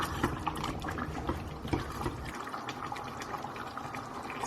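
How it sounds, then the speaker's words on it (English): Water poured into a thickening coconut milk Thai beef yellow curry gravy, a close, continuous splashing trickle for a couple of seconds that then softens into a lighter liquid pour. "I'm going to add a little bit of water."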